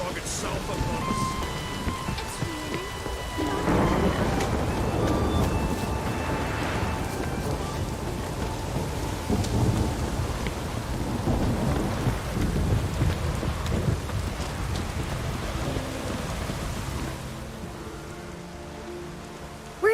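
A thunderstorm with steady heavy rain and rolling thunder fills a dark Witcher 3 game scene, a dense continuous roar with low rumbles, easing toward the end as faint voices talk over it.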